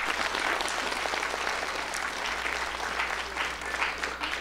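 An audience at a regional final applauds the judges with sustained, even clapping that stays fairly steady throughout, with no speech over it.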